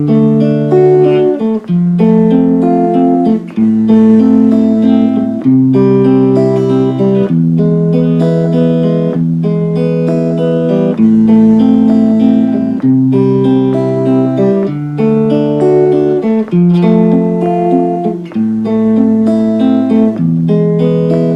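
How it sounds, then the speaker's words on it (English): Acoustic guitar fingerpicks House of the Rising Sun in a steady rolling arpeggio pattern, chords changing every bar or so, played clearly and close with no talking. "if I was to play the whole song once through with that picking pattern, it would sound like this"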